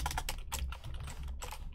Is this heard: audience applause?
no